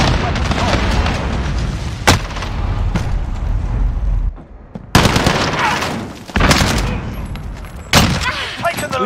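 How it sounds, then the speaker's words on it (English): Gunfire and booming blasts from a Call of Duty Modern Warfare hardcore team deathmatch, a sustained loud barrage with several sharp explosion hits, and a player's voice calling out over the battle. "Grenade out!"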